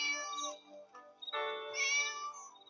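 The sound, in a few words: kittens meowing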